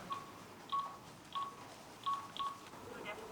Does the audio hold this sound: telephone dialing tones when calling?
yes